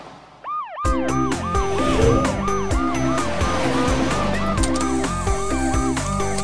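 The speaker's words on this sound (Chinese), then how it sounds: "超雷达警车雷克， 飞天救护车安琪" Cartoon police car and ambulance sirens wail continuously and loudly over a bouncy children's song beat in an animated super-car nursery rhyme.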